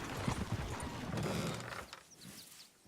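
Horses in Red Dead Redemption 2 clip-clop in a steady patter through the first two seconds, fairly close and moderately loud, then fade away as brief higher chirps and rustles take over.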